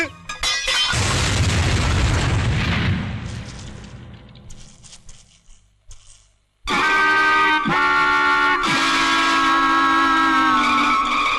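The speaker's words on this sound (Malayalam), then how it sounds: "അയ്യോ ബോംബ്" A bomb explosion sound effect from a Malayalam comedy scene hits as a loud, broad blast that rumbles and slowly fades over several seconds. After a moment of near silence, a bright tonal musical sting follows.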